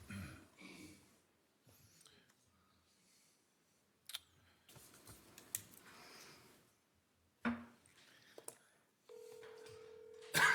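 A telephone is dialed in a city council meeting: scattered clicks and handling noises, a couple of short beeps, then a steady dial or ringing tone, with faint voices at the start.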